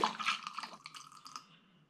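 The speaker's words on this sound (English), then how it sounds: "So I'm just giving it a shake around to mix it together." Apple and berry cider mix sloshes inside a glass demijohn as it is shaken, a short burst of wet swirling and dripping that fades out within two seconds.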